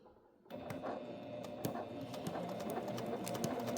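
A sewing machine stitches a quilt seam on a three-yard panel quilt, starting after a moment of quiet and then running as a steady, close, rapid whir with no talking.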